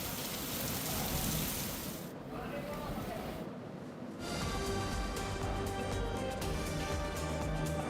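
Heavy unseasonal rain pours steadily in southern Gujarat, a dense loud hiss of falling water that briefly thins before surging back, with indistinct voices under it.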